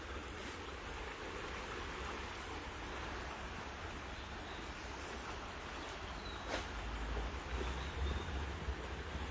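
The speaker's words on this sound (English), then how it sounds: "just listen to the water" Water flows steadily beside a walking path in nature, a constant soft rushing that stays moderately loud with no voices, with a slight swell near the end.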